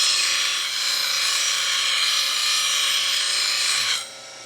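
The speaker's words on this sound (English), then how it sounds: "I might come over here and just spend some time and grind off the heel." A grinder removes the heel of a steel blade in one continuous, loud, bright rasping stretch that ends abruptly near the close, with no talking.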